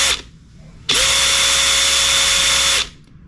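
A DeWalt DCF860 1/4-inch cordless impact driver, running forward, whirs loudly for about two seconds at a steady high pitch, with a brief burst just before, then stops.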